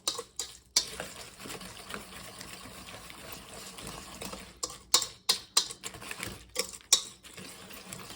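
Ham loaf mixture of breadcrumbs or crackers, salt, pepper and paprika being stirred in a bowl, with a steady scraping churn and a run of sharp utensil knocks against the bowl toward the end, close and moderately loud, no talking.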